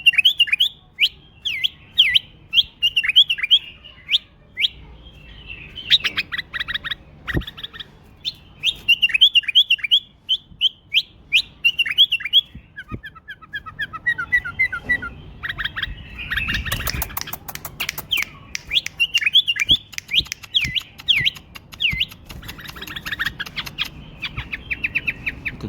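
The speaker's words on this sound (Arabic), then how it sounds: "اللي يدور تغريد بلبل يدوخ" A tame bulbul sings lively, repeated chirping phrases and whistled trills up close, with bursts of rapid tweets and brief pauses between song runs, plus some handling noise and a scratchy rustle midway.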